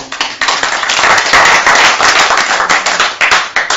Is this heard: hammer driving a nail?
no